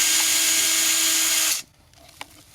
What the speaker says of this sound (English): first we'll drill a couple of holes